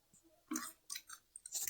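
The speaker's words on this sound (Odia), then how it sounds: "ମୁଁ ଏଇନା ଖାଉଛି ବସିକି" A person chewing food while seated at a meal at home, close and quiet, with a few soft bursts of mouth noise and pauses between bites; no talking.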